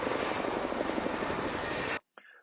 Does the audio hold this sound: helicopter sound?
yes